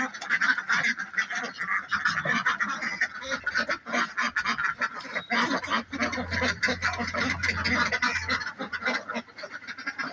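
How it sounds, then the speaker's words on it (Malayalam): A flock of around 28 farm ducks quacks and honks steadily and loudly at evening feeding, many calls overlapping with no pause throughout. "പത്തിരുപത്തെട്ട് താറാവുമുണ്ട്"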